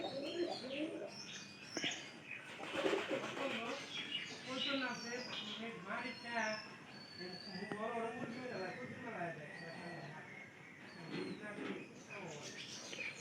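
Domestic pigeons in a village pigeon house make soft, repeated cooing and light chirps close by, running steadily beneath someone talking.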